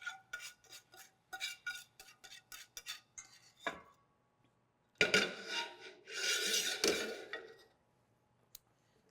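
Apple caramel sauce is scraped from a pan into a bowl with a utensil: a run of quick metallic taps and clinks, then a longer rough scraping and stirring stretch, close and fairly quiet.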